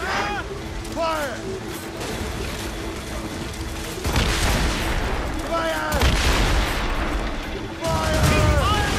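Ship cannons firing broadsides in the video game Assassin's Creed Rogue, repeated heavy booms in several bursts over a constant roar of wind and sea, with a voice shouting an order.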